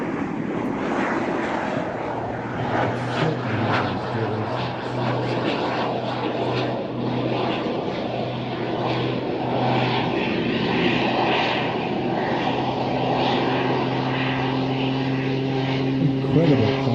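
A Pitts aerobatic biplane at an air show drones steadily overhead, its propeller engine loud and continuous with a slowly shifting pitch as it climbs and rolls, while a commentator talks over it.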